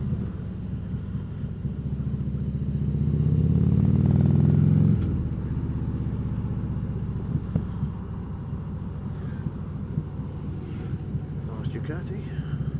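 Ducati motorcycle passing on an open road, an engine roar swelling and fading over a few seconds beneath steady wind and engine noise from a riding Harley-Davidson Road King.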